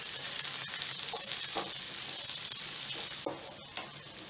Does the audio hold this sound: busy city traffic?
no